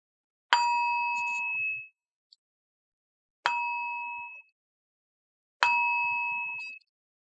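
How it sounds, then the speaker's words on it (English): A bell-like object is struck three times at slow, even intervals, each a bright clear ding that rings on for about a second before cutting off, with silence between strikes. "It's kind of like hitting my bell."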